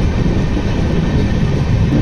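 Steady, loud rumbling of an LTT Superfast Express train running into the Lonavala ghat, a dense continuous roar with no breaks, heard from on board.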